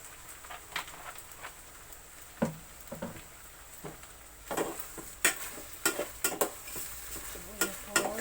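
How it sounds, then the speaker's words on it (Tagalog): Hotdogs frying in a pan as soy sauce goes in, soft sizzling under repeated stirring and utensil scrapes against the pan, close and fairly quiet. "Pinirito ko na po yung hotdog ngayon. Maglalagay po ako ng konting toyo."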